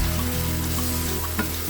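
Shredded chicken breast sautés with tomatoes for sotanghon soup, a dense, loud, even frying hiss with a faint scrape of stirring near the end and no voices.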